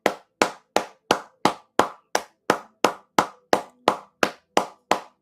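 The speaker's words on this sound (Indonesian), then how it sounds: "Beri tepuk tangan buat Tuhan Yesus 1 menit." A church congregation claps in tight unison, about fourteen loud, evenly spaced claps in a steady rhythm with silence between each.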